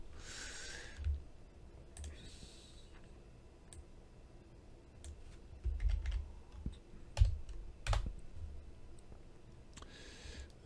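Computer keyboard typing in a quiet room, a few short bursts of key clicks with pauses between them, fairly faint and close, no talk over it.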